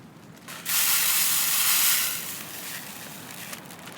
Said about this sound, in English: let's fill this corn feeder up